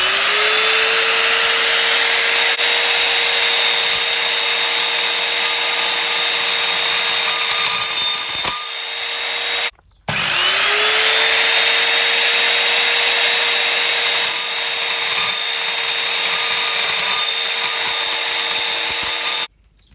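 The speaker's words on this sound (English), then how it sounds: "Here I'm going to be cutting some 10mm threaded rod." An Evolution F210 SMS 210mm sliding mitre saw cuts through 10mm threaded rod: a loud, steady motor whine with grinding blade contact, dropping out briefly midway as it spins down, then running up again until near the end.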